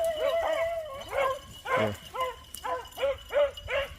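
A pack of male hunting dogs barks steadily as they run, a series of sharp, regular barks close by, with a man's brief word heard under them.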